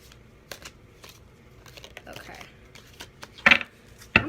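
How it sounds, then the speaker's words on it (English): A tarot deck, the Rebel deck, being shuffled by hand: soft, faint papery riffles and rustles scattered through the stretch, ending in two sharper, louder card snaps near the close. "I'm gonna shuffle these."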